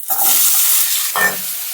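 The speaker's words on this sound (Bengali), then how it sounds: "পেঁয়াজ আর টমেটো কাটাটা তেলের মধ্যে দিয়ে দিচ্ছি" Chopped onion and tomato hit hot oil with a loud, bright hiss that stays strong and steady. Halfway through, a second burst of sizzling flares up, and no one speaks.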